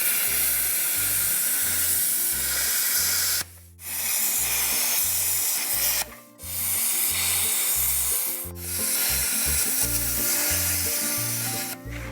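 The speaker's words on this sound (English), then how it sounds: "Well, plasma cutter time." A plasma cutter slicing through metal on a 1975 Ford. A harsh, close, continuous hiss with a droning buzz underneath breaks off three times in brief pauses before restarting.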